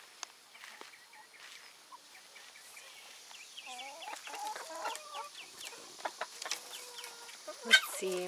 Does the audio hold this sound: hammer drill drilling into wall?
no